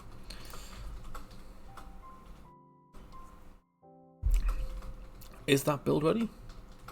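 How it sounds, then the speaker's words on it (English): Rapid typing on a computer keyboard at a desk during indie game development work, a steady clatter running under nearby speech, broken by a brief quiet gap before louder clicks and talk resume. "I can hear Rob ferociously typing"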